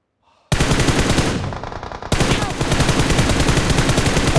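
Rapid automatic gunfire from a BGMI (Battlegrounds Mobile India) match, loud and continuous bursts starting abruptly and running almost nonstop throughout, with no talk over it.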